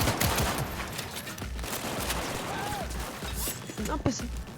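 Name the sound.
turret gunfire in video game Cyberpunk 2077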